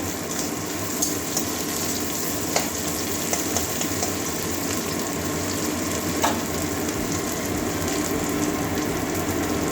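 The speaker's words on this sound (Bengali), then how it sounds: "পেঁয়াজটা একটু ভেজে নেবো লাল লাল করে" Onions frying in oil until reddish for a moong dal with spinach and papaya: a loud, continuous crackling sizzle with a few soft clicks of a utensil, close and steady.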